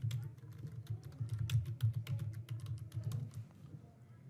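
Rapid typing on a computer keyboard, a quick run of close, light key clicks over a low background hum that trails off toward the end.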